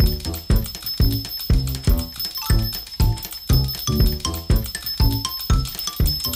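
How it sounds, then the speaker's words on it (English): Vintage windup toys, among them a clown with maracas and a monkey with cymbals, ring small bells as their heads rock back and forth, giving a steady, repeating metallic jingle of roughly two strikes per second over a whirring mechanism. "What they do is their heads go back and forth and they ring the bell."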